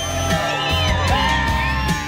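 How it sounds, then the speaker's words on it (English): Large crowd on bleachers at a sporting clays championship in San Antonio, Texas, cheering with whoops and shouts, a dense, continuous wash of voices close by. "The extra pressure of the big crowd cheering on the bleachers brings"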